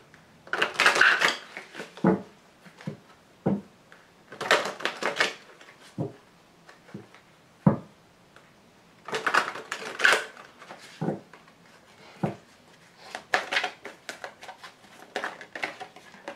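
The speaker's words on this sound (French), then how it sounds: "je vais tirer toutes les cartes" Tarot cards are shuffled and drawn one after another, giving bursts of papery flutter and crisp flicks with small taps between them, close and fairly quiet.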